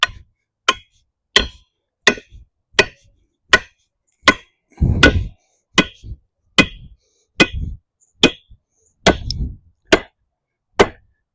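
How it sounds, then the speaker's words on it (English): A piece of rebar is driven with a tamper for a retaining wall, producing about fifteen sharp metallic strikes in a steady rhythm, each ringing briefly, with a couple of heavier thuds mixed in. "Think I can drive a piece of rebar with the tamper."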